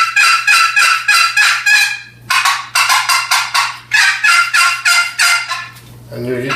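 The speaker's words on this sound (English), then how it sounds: "Mix in a few yelps with it." A turkey box call works through runs of loud raspy yelps and quick choppy cutting notes, close up, in steady rhythmic series with brief breaks between.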